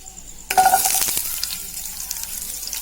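After a quiet start, chopped onion drops into hot oil with mustard seeds and cumin, bursting into a loud, close sizzle that settles into steady frying with a few light clinks.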